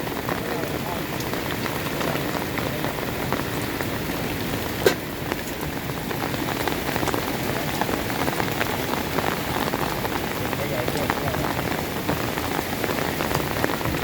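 Dense, loud rain pouring steadily onto a surface, a constant hiss and patter throughout with one brief sharper knock partway through.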